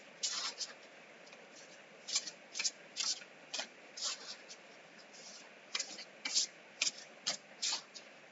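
A Woodland Wardens tarot deck being shuffled by hand: a series of crisp, riffling card bursts in an uneven rhythm, close and fairly loud, with short pauses between them.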